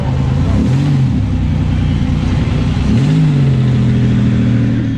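Buick Grand National turbo six idling and revving at a dragstrip, a loud close rumble with two rising throttle blips, steady engine noise between them.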